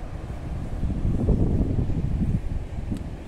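Wind blowing across a bridge at a water-themed nature park in Le Mans, a steady low rumbling buffet that swells slightly in the middle, with no talking.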